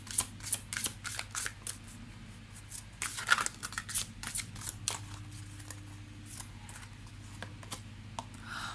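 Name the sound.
handling Isis oracle cards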